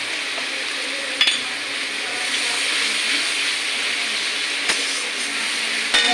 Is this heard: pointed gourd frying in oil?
yes